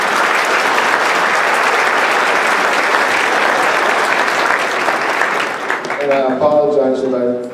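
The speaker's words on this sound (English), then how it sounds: "Please give them all a big round of applause." Sustained, loud applause from a large audience at a 2016 Chinese New Year gala in Atlanta, dense clapping filling the hall before thinning near the end as a voice begins speaking.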